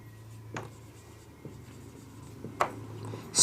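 A definition being written by hand, probably with a marker or pen on a board, making faint scratchy strokes and a few soft taps, with no talk.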